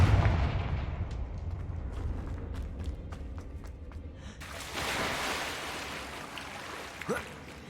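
A Confringo fire-blast spell in Hogwarts Legacy, a booming explosive burst with rumbling low impact, followed by a rushing whoosh and settling debris, loud and close with no speech over it.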